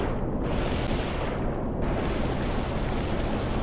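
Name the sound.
ship engines in a video game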